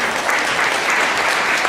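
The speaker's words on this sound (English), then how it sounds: "Give yourself a big round of applause." Audience applause at a charity gala, a dense, steady wash of many hands clapping at full volume throughout with no gaps.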